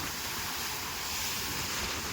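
Rough, stormy sea waves off the Alang coast make a constant loud roar, with heavy wind buffeting throughout.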